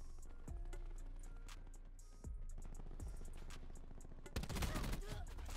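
Gunfire from the Black Ops 4 video game: a few sharp, booming shotgun blasts ring out at intervals over steady game ambience, ending in a denser burst of rapid shots.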